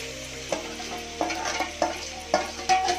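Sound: marinated chicken added to frying onions, sizzling

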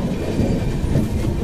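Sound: Saket Express passenger train running on rails, Kasara Ghat

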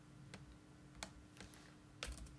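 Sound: typing on a computer keyboard

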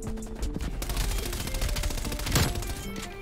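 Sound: MP5 submachine gun firing in video game Call of Duty Cold War

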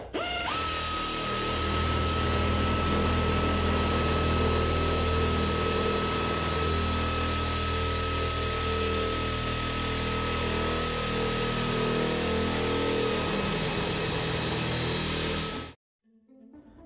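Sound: angle grinder with cutoff wheel cutting metal

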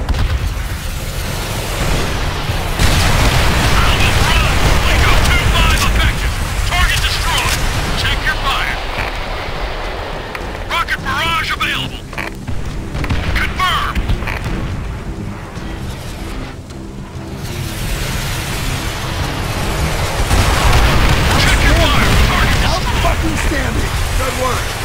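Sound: rocket strike explosions in video game Call of Duty World at War

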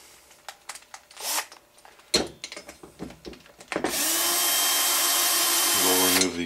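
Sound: removing clutch housing screws on CY 23cc engine

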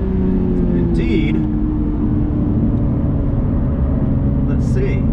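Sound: Toyota GR86 2.4-liter engine accelerating out of a corner on track

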